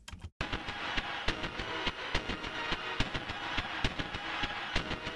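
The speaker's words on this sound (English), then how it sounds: "I really used the octaves button to create a more synthesizer or a pad sound." Skank-style electric guitar chops run through an Eventide Crush Station distortion plugin with delays and the octave setting, giving a synth-pad character; steady rhythmic strikes repeat over a dense, sustained wash after a brief opening gap.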